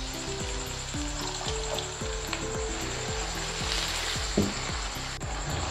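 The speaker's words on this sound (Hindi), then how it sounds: "अच्छी तरह से मिक्स करने के बाद अब इसमें शामिल करेंगे 1 कप पानी।" A cup of water poured into sizzling taro root masala seasoned with black pepper; a loud, steady frying hiss with close, repeated scraping stirs about every half second.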